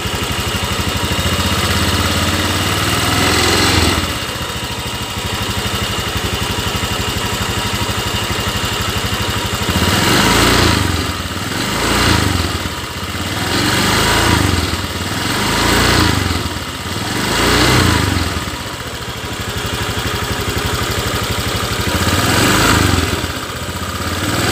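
Car engine idling and being revved in repeated bursts during an overheating check with the thermostat open, steady idle then several rising and falling revs, close and loud with no talk.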